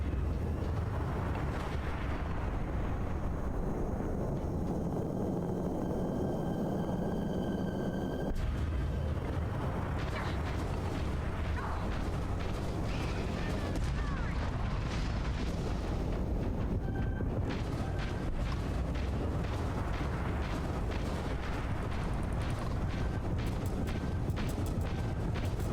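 Missiles striking and exploding in a space battle in Starfield, a dense, continuous barrage of booms and rumbling blasts layered over droning engine noise, loud and unbroken throughout.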